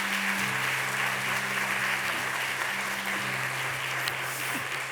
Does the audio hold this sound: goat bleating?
no